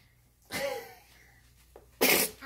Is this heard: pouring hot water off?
no